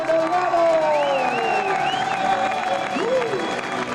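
Crowd applauding and cheering motorcycle racers at a 24-hour endurance race podium, continuous clapping with shouts and whistles, while an announcer talks over it.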